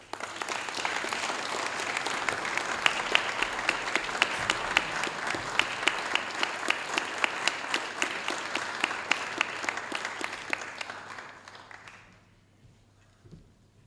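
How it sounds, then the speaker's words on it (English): Audience applause at a science prize award ceremony, sustained crisp clapping with a few sharp individual claps standing out, tapering off and fading to near silence in the last two seconds. "A round of applause."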